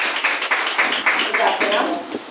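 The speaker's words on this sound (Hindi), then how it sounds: "आइए भाई के लिए भी ताली बजाएंगे इस समय पर" A congregation at a Sunday worship service in New Delhi claps steadily in an even rhythm to welcome a visitor, close and fairly loud, with a voice speaking over the applause.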